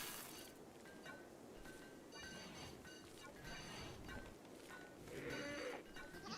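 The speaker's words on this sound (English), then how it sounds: "Oh, you little sheep." Sheep in the video game RimWorld bleat faintly amid a low, steady wash of game sound, with the cries coming and going over several seconds.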